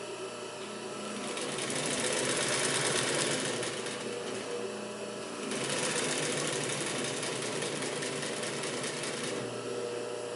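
A Pfaff 145-H3 industrial triple-feed sewing machine with reverse stitches continuously at a steady fast pace. Its dense mechanical whir is close and loud and carries on almost without a break.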